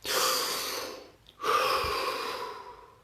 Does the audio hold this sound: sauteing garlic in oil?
no